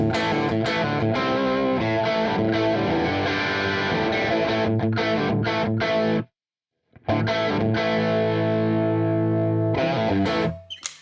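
Electric guitar with single-coil pickups played through a JMP Marshall amp model plugin with an RB1011 booster in front of an Apollo Twin; loud, driven chords and riffs ringing continuously, a brief silent gap, then more playing.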